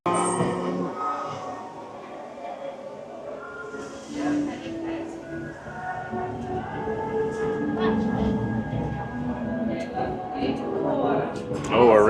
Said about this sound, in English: Oh, we're racing the monorail.